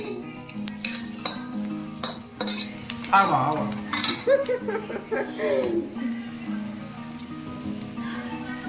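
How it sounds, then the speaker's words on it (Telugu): Onions frying in a pan for noodles, hissing with a steady sizzle while a spatula stirs and scrapes in busy bursts, close by, with a voice talking at moments. "ఇప్పుడైతే మనం ఆనియన్ వేసేసుకున్నాం, బాగా ఫ్రై చేసేసుకోవాలి"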